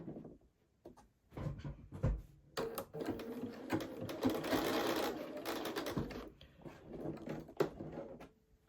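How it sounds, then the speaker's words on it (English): A sewing machine stitches a rectangle onto a pinafore dress in several bursts of rapid whirring, stopping briefly between runs to pivot at the corners, with clicks and handling noises in the pauses. "Now we're going to sew in our rectangle, making sure we pivot at the corners."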